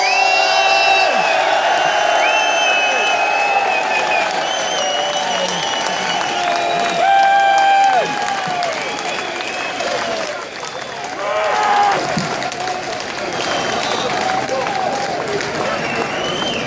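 A large crowd at a London street rally at Whitehall cheers, whoops and applauds loudly and continuously, with shouts and whistles rising and falling in waves; voices call out within the din.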